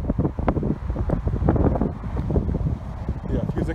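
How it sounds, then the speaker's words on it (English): Strong gusts buffet an outdoor microphone on a very windy day, a loud continuous rumbling roar that swells and dips with the wind, close and dominating. "Extremely windy around here."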